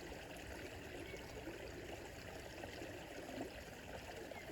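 Steady running water of a stream, a continuous soft rushing and trickling with no voices, even and unbroken throughout.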